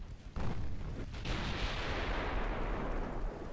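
Heavy naval guns firing armor-piercing shells in Ultimate Admiral: Dreadnoughts, a sharp close blast followed by sustained loud rumbling roar, with a second boom about a second later swelling into a long, dense cannonade with no voices.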